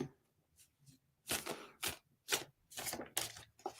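Tarot cards shuffled by hand, several quick riffling bursts of papery rustle separated by short pauses, near and quiet.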